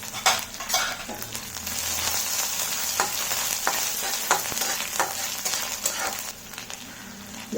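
Finely chopped ginger and green chili frying in oil with mustard seeds, chana dal and cumin for masala dosa, a steady sizzle broken by scraping spoon strokes and clinks against the pan, close and alone with no voices.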